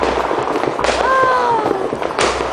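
New Year fireworks pop and crackle nearby in a dense, continuous barrage, with a whistling rocket rising in the middle and a voice briefly calling out.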